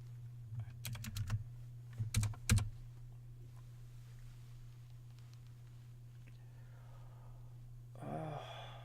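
Typing on a computer keyboard during a live coding session, two short bursts of quick key clicks with a pause between, faint and close, followed by a tired sigh near the end.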